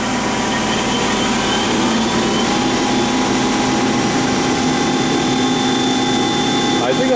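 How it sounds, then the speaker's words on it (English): A Weldon 1632 Gold CNC universal cylindrical grinder runs its OD wheel with a loud, steady mechanical whine and hum that stays constant throughout, close by, with someone talking over it. "at this point, in manual, let's see, I can run the OD wheel, I believe."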